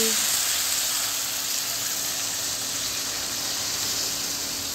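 Water poured into hot fried masala for a home-style fish curry, giving a broad, steady hiss of sizzling and steam that holds evenly from start to finish.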